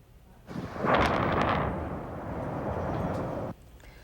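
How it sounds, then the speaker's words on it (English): A massive blast at a chemical plant in Port Neches, Texas, rolls out as a deep, sustained roar that swells suddenly, stays heavy for about three seconds, then cuts off. "Massive explosions at a chemical plant have rocked a neighborhood in South Texas."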